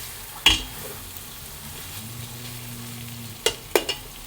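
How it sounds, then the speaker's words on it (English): Chicken pan-frying for Thai green curry sizzles steadily at low level, with a sharp clank at the start and a few utensil knocks and scrapes near the end, no talking. "I'm just going to put it in and pan fry it for 2 to 3 minutes"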